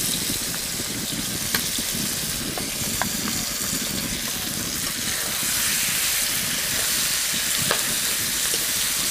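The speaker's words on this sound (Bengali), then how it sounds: "আরও কিছুক্ষণ এইভাবে নাড়াচাড়া করে নেব।" Chicken frying in oil with turmeric and chilli powder for a pumpkin chicken curry, a loud continuous sizzle close by with occasional light clinks of a spatula being stirred through the pan.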